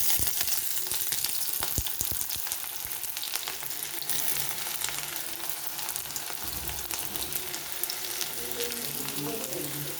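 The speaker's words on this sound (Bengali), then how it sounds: "এবারে আমি দিয়ে দেবো গরম তেলের মধ্যে পেঁয়াজ কুচি" Chopped onion sizzles in hot oil in a kadai while cooking an egg curry, a steady bright frying hiss with crackles and occasional stirring scrapes, close and without talk.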